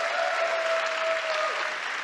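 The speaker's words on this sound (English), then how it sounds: "give our Mindvalley U primetime players a big round of applause" An audience at a live body-language seminar claps in a dense, steady wash of applause, sustained and fairly loud throughout, with a faint tone running beneath.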